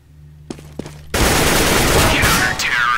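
Automatic rifle fire from a CS:GO match bursts in loud and close after two short clicks, a dense continuous volley that runs to the end with a brief dip near the close.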